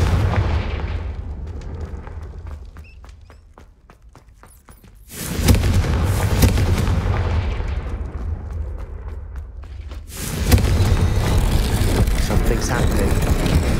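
A Confringo fire spell blasts in Hogwarts Legacy, with two loud, booming eruptions a few seconds apart. Each burst opens into a sustained, roaring rush of flame and rumble. A quieter, crackling lull sits between them.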